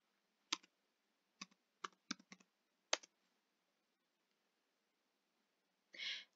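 Key presses on a computer keyboard while typing a web address, a few sparse, quiet taps and short clusters of clicks in an otherwise silent room, ending with a brief breathy sound.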